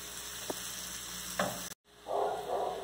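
Onion frying in a pan for a farofa, a steady close sizzle with a few soft stirring knocks, briefly cut by a short dropout before the frying noise resumes.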